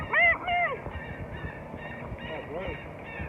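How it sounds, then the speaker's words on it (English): Birds at a zoo honk in short, repeated calls, two loud near ones at the start and further softer honks later, over a busy background murmur. "oh, they're birds."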